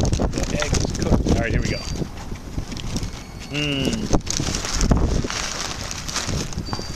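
Wind gusting across a microphone outdoors at the Flight Line Diner, a steady rushing roar with buffeting bursts, heard under a man's speech with a brief whistling tone.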